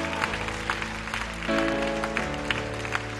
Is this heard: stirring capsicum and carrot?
no